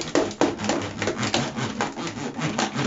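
A children's toy hammer knocks on wood in a kids' tool set, the dull taps mixed with steady rubbing and scraping like a small toy saw working alongside.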